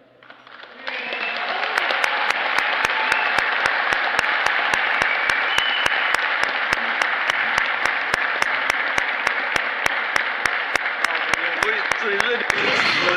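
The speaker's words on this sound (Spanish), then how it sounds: "unos aplausos más calurosos para la exitosa ceremonia de salida del primer tren nuevo de la línea" Applause from a crowd at a Mexico City Metro Line 1 ceremony sending off the first new train, steady clapping that swells in after a quiet start and carries on for many seconds, with faint voices underneath and regular sharp ticks throughout.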